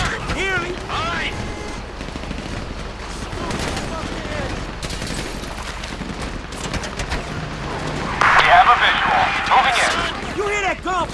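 Rapid bursts of gunfire in the Grand Theft Auto V video game crackle in repeated volleys, growing louder near the end, with voices talking over them.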